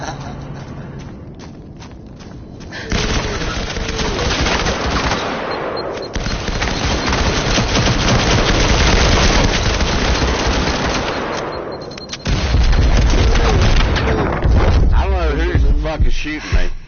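Dense, rapid bursts of automatic gunfire in the tactical shooter Firewall Zero Hour run almost nonstop, loud and close, and a player's voice talks over the shooting.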